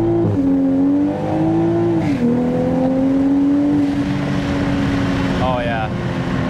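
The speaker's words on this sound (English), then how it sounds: "Right before I go, I'm gonna do a little first gear pull." Toyota A90 Supra fitted with a Made Motorsports exhaust doing a first-gear pull, a loud, close engine note climbing steadily in pitch with a brief dip at a shift-like break, then settling; voices faintly underneath.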